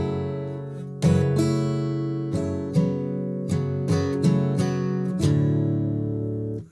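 Acoustic guitar plays a passage from a song: strummed chords and plucked notes in a loose rhythm, with ringing strings and several accented strums, close and alone without any voice.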